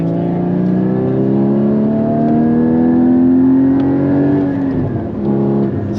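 A Porsche 981 Cayman GT4 engine hums steadily and climbs in pitch as it revs, then eases off near the end. The drone is loud and continuous, like the sound inside the car on the move, and there is no talk.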